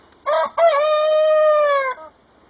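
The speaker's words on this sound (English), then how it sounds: "trying to crow up a storm" A single rooster crows nearby, a loud, clear cock-a-doodle-doo with a short break after the opening note, then a long sustained call against a quiet background.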